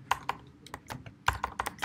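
Computer keyboard typing in two quick clusters of sharp clicks separated by a short pause, close and clear with no talking.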